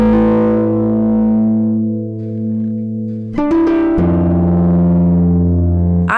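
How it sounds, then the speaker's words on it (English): Chase Bliss Clean compressor pedal in dusty mode, adding light drive to a piezo-pickup acoustic instrument: sustained, slightly gritty tones ring out, then a fresh burst of plucked notes restarts the phrase with a warmer, fuller body, no voices. "this dusty dip switch adds a little bit of drive that plays super well with piezo pickups"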